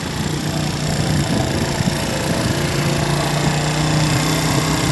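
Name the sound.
small gasoline engine running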